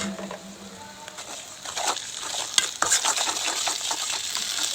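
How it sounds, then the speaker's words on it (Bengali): Garlic, ginger and cumin paste stirred and frying in a pan, with a soft steady sizzle broken by scraping strokes and light clinks of a spoon against the pan, close and alone. "নেড়ে নিচ্ছি, একটু ভাজা করব।"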